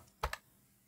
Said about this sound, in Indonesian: Suara ketikan keyboard seakan-akan kalian mengetik menggunakan keyboard mechanical gitu.